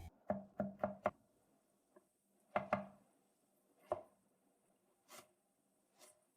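A knife chops garlic on a cutting board in sharp, close knocks, first a quick run of four, then scattered single strokes with quiet gaps, and no speech.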